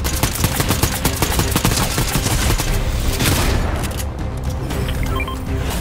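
Dense rapid gunfire in the Fortnite video game, a loud continuous fusillade of shots with machine-gun bursts and booms that thins toward the end.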